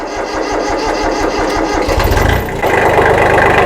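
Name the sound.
Kubota L225 diesel tractor engine cranking and starting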